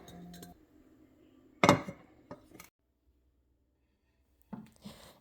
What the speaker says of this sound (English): I'm going to be adding this decanter bottle next to the books, and then this white canister with Swiss Miss hot cocoa packets